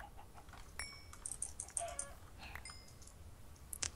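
Chickens in the Minecraft video game give short, scattered clucks across a few seconds, moderately close and fairly quiet, with no talking.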